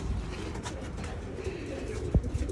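Racing pigeons coming home from a training toss between Nagoya and Osaka coo softly and low nearby, a brief throaty murmur with a small thump near the end.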